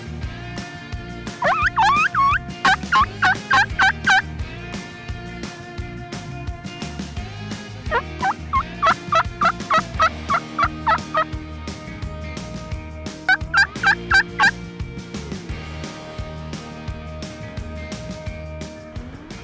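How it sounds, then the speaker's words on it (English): A wild Rio Grande turkey in South Texas gobbles in three separate bursts answering a mouth call, each a rapid warbling rattle, moderately close against a quiet field background. "Let's try the mouth call and ambush technique."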